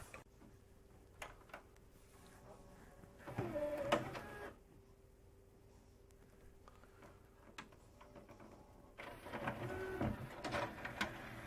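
A Pioneer LaserDisc player's tray ejects with faint mechanical whirring and clicking, two distinct motor bursts separated by quiet ticking, close and low in level.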